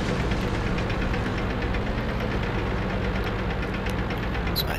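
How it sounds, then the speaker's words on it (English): A tank engine from the World of Tanks video game, just repaired, rumbles steadily and loudly with a deep, continuous drone and no pauses or voices. "Now that our engine's fixed, we can go full speed again."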